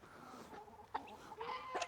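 A few hens cluck softly at close range, short scattered calls with brief pauses between them in a quiet setting.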